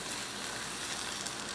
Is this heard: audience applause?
no